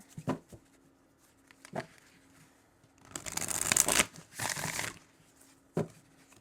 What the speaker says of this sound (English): So let's go ahead and get some more energy cards out.